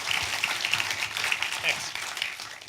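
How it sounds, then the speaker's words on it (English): Audience at a film Q&A with director Jason Reitman applauding, steady moderate clapping from a room of people, somewhat distant with some voices mixed in. "let's give Jason a round of applause for the film"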